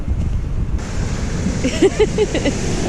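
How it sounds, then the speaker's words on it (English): Strong wind buffets the microphone in a steady roar at Tresaith Beach in Wales, with waves washing in underneath and brief voices rising faintly toward the end. "I hope these fluffits are working because it's very windy today"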